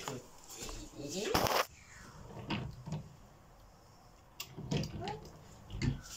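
Drawers on newly delivered bedroom storage furniture slide open and shut, a few rolling scrapes and soft knocks spread across the moment, with people talking in French around them.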